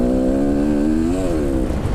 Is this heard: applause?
no